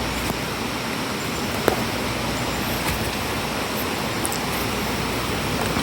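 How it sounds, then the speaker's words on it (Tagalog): Water flows steadily near a lagoon by the Kaybiang Tunnel, heard as a continuous, even rush with no talking. "narinig ko na yung tubig"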